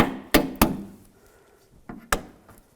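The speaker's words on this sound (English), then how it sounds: "underneath here, there's some push pins. You want to take those out with a trim tool." Plastic push pins snapping free as a trim tool pries them out of interior trim on a 2006-2011 Cadillac DTS, during third brake light replacement: two sharp close clicks, a pause, then two more sharp pops with faint rustling between.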